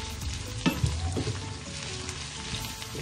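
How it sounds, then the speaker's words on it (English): Potatoes fry in a pan with salt and pepper for a spicy and sweet potato breakfast hash, giving a steady close sizzle with a few stirring knocks and scrapes early on. "I'm going to let those potatoes cook down"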